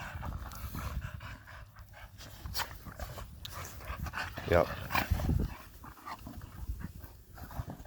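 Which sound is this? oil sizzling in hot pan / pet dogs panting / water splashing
pet dogs panting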